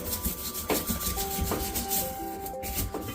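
A scrubber rubbing back and forth over a moldy rubber door seal, giving a close, repeated scratchy scrubbing in quick strokes.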